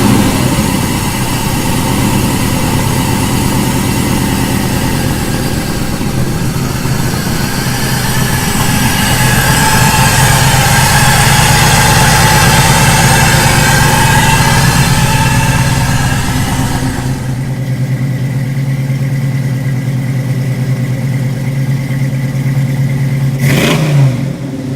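An LS-swapped El Camino running on a Holley Terminator X system idles loud and steady, then the revs climb and hold for a stretch before dropping back to a lumpy idle, ending on one sharp blip of the throttle.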